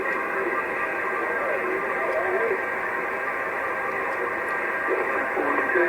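A hissy, band-limited CB radio transmission received on a Cobra 2000, with a distant voice talking through heavy static and fading in and out.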